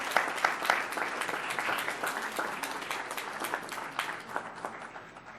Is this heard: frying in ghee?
no